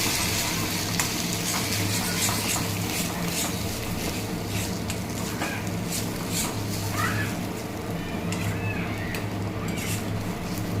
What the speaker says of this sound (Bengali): জিরের গুঁড়ো ধনের গুঁড়ো দেওয়ার পর দিয়ে দিচ্ছি হলুদ দিয়ে এবার মশলাটাকে কষিয়ে নেবো